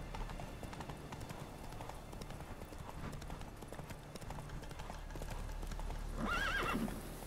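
Roach, the horse in The Witcher 3, gallops with a steady clip-clop of hooves under game ambience, and a brief whinny near the end.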